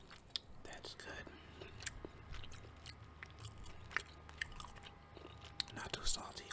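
Brussels sprouts are chewed close to the mic with soft crunches and wet bites, irregular and quiet, while someone whispers between mouthfuls.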